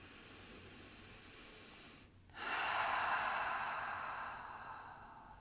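A slow, deep breath taken while holding a yoga stretch for the feet and ankles: one long, close, airy breath that swells and then fades over a few seconds, with no talking.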